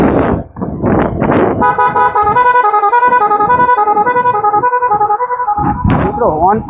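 A motorcycle horn with many programmed tones cycles through a rapid sequence of shifting musical beeps and warbles, loud and close, with someone talking briefly before and after.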